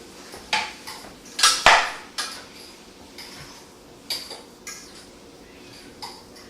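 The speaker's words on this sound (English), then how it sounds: "Well, stir up the potatoes" A utensil clinks and scrapes against a pan while potatoes are stirred as they fry, with a handful of sharp metallic knocks scattered irregularly over a quiet background, one louder clatter near the start.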